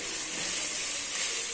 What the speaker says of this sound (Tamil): இப்போ இதை நல்லா வதக்கிடலாம்.